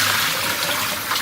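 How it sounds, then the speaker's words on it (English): Meat and liquid poured into a colander while rinsing lamb for a Moroccan-spiced stew, a steady rushing splash of water running continuously and fairly loud. "I am going to pour this into a colander"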